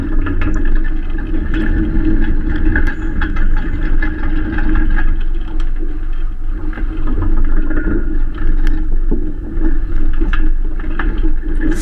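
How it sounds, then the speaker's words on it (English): Steady wind blowing across a sailboat on open water, a continuous broadband rush with low rumble and slight gusty swells, constant and fairly loud throughout, with no talking. "The wind's getting a little bit stronger."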